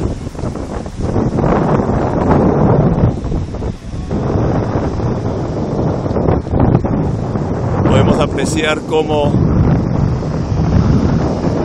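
Strong wind buffets the microphone over rushing water and waves around a boat at sea, with a person speaking under the roar.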